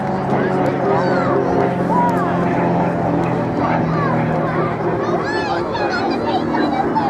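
An Extra EA300 LX aerobatic plane with a 350-horsepower Lycoming engine flies at an airshow, its engine a steady, loud drone with wavering pitch, under an announcer's voice and crowd noise.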